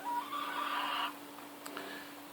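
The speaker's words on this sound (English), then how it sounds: "And my chickens are in the back there." A backyard hen gives a drawn-out clucking call up close, followed by quieter background sounds and a faint higher chirp.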